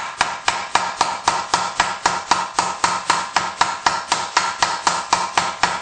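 A hammer strikes a socket resting on a vise while a Chevy S-10 valve cover gasket is being replaced, about twenty sharp metallic taps in a fast, even rhythm, loud and close.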